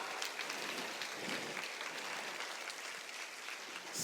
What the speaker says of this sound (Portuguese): Deu para Jesus uma forte salva de palmas.